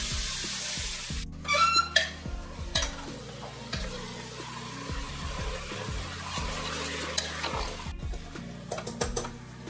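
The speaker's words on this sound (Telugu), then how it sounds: "సో చికెన్ బాగా ఫ్రై అవుతుంది" Chicken pieces frying in a pan with ginger garlic paste, a continuous close sizzle with repeated scraping and stirring clatter from a spatula, steady and fairly loud throughout.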